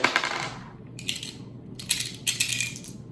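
180-grain 10mm cartridges spilling out of a Sig Sauer P320 XTEN pistol, heard close as several short bursts of metallic rattling clatter separated by brief pauses, with no talk.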